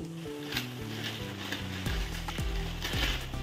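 Masala frying in a pan for a prawn and potato curry with coconut milk, a soft steady sizzle with occasional scrapes and stirs, faint and close.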